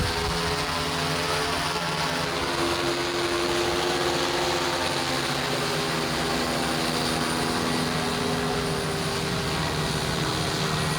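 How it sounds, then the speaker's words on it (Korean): A marine delivery drone drones steadily as it takes off and flies away over the sea, its rotor noise staying loud and even throughout with no speech. "드론이 생각보다 엄청 빨리 하늘로 올라가고 멀리 빨리 날아가네요"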